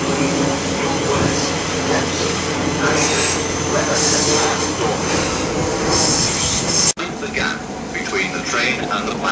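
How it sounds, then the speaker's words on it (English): A train passes through Clapham Junction Station without stopping, rumbling loudly, wheels clattering and squealing continuously, with a public announcement voice sounding over the noise. "The approaching train is not scheduled to stop at this station."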